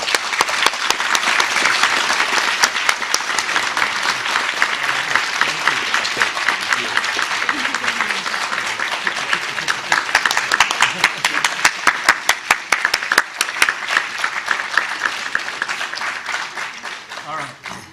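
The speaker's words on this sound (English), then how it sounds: "Please join me in celebrating Professor Lars Lokster with the applause that he so richly" A commencement audience at a graduation ceremony applauds Professor Lars Lokster, dense sustained clapping from a large crowd that carries on for the whole stretch, a few sharper close claps standing out near the end.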